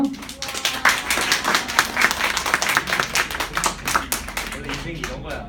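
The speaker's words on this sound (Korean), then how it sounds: "우리 한번 좀 약간 어색할 수 있지만 마음을 담아서 격려의 박수로 우리 한번" Clapping from a church high-school youth service, a room of people applauding in encouragement with uneven, fairly close claps for several seconds.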